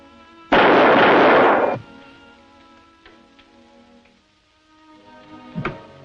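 A death capsule bursts in one loud, broadband blast lasting over a second, set off by a shortwave radio set in a 1936 circus setting, followed by quieter rumbling residue and a short sharp crack near the end.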